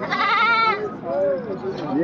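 A goat bleats close by at a livestock sale, giving a long wavering cry and then shorter, quivering calls, with people talking underneath.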